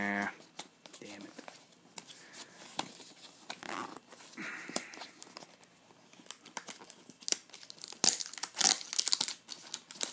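Packing tape being peeled and torn off a cardboard Nintendo 3DS XL box, crinkly ripping and rustling bursts close by, with a person talking and muttering between pulls.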